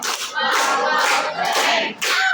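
A classroom group gives a rhythmic clap cheer, several bursts of many hands clapping together, close and lively, with short gaps between the bursts.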